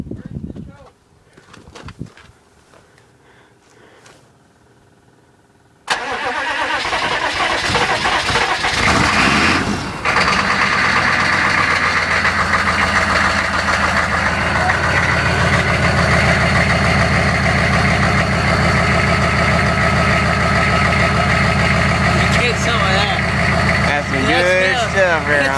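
Chevy 3500 turbo diesel truck: some faint handling noises, then a glow-plug wait, a cranking start, and a loud, steady, close diesel idle with a clattering, rumbling tone that continues for about twenty seconds.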